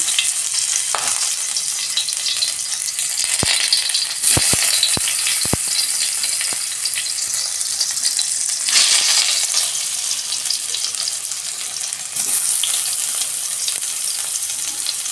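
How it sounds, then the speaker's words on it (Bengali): Bitter gourds fry in hot oil in a wok with a loud, continuous sizzle and crackle, punctuated by a few sharp clinks and scrapes of a utensil. "তেল গরম হয়ে গেছে, আমি উচ্ছেগুলো দিয়ে দিচ্ছি।"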